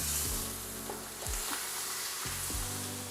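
A beef pot roast sears in a hot pan, with loud, continuous sizzling close by, broken by a few dull low thumps as the meat is moved.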